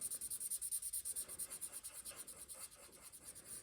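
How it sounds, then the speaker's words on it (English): Rapid, rhythmic scratchy squeaks of a marker pen stroking back and forth across paper, close up and steady with no talking. "Sorry, they do make a noise, these pens."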